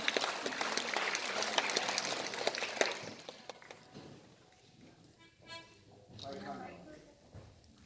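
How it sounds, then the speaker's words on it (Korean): Audience applause at a harmonica festival award concert, dense clapping for about three seconds that then fades, followed by scattered sounds and a voice talking quietly. "국난주님께 큰 박수를 보내주시기 바랍니다."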